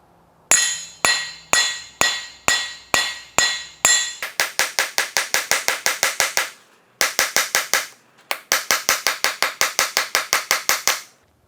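A hammer strikes copper on a wood block to texture it, a long series of sharp, regular metallic taps, first spaced out and then quicker in steady bursts with short pauses, close and alone.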